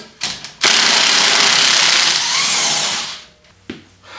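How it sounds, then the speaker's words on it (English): An impact or power tool spins out a bolt with a 13mm socket during rear bushing replacement on a 2015 Wildcat Sport, a couple of short blips followed by a loud sustained whir of about two and a half seconds, close up, then a brief final burst. "I'm using a 13mm socket"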